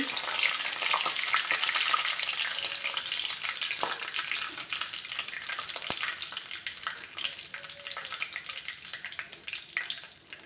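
Bay leaves fry in hot oil in a pan, a continuous crackling sizzle with scattered sharper pops and a slight fade toward the end, no voices over it.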